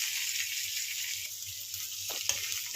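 Stuffed okra (bhindi) frying gently in oil over a low flame, a steady soft sizzle with a few faint clinks of stirring near the end.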